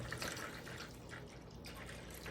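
Distilled water pours into a container to mix orchid feed, a close, low splashing and trickling stream with small bubbling surges and no talk over it.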